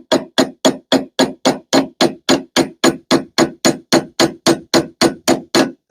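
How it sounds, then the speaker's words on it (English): A hammer corner taps metal hooks being made by hand, about twenty sharp, evenly spaced strikes in a steady rhythm, close and loud, with no talking. "I'm trying to use the corner of my hammer and just so delicately"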